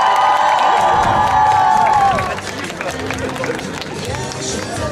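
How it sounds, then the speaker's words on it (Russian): Crowd at a school graduation ceremony in Novorossiysk cheering and applauding as eleventh-grade graduates are welcomed; loud festive music fades after two seconds, leaving a broad wash of clapping, shouts and crowd babble. "Встречаем под бурные аплодисменты выпускников"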